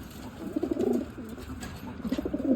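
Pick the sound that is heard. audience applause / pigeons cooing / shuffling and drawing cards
pigeons cooing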